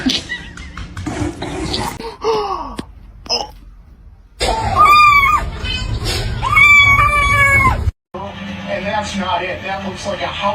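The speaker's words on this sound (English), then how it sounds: "looks like a house cat." A house cat meows in several loud, wavering cries, with people talking and exclaiming around it and a brief cough.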